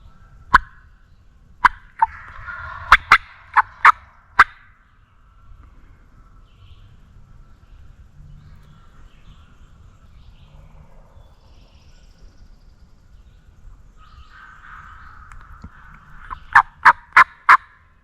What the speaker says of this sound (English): Bird literally gobbled right as soon as the deer were filtering through right here